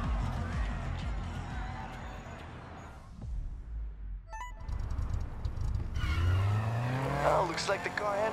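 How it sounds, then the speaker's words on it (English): Car engine revving and tires squealing in a skid in the Need for Speed Heat racing game, continuous and close with a rising roar near the end, and speech from the game's characters in places. "Oh, looks like the car handles okay."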